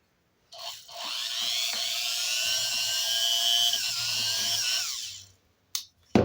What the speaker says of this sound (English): Here we go with the die grinder.